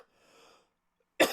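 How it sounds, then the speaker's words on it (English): A single sharp, loud cough bursts out near the end, after a stretch of faint breathy sound and near silence. "Apologies for the cough there."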